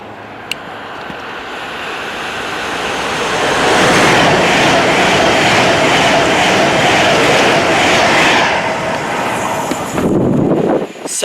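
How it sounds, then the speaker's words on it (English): A Virgin Trains Pendolino passing on the Trent Valley Line, a loud rushing roar that builds over a few seconds, holds steady and then cuts away near the end. "I know a Pendolino is about to show up"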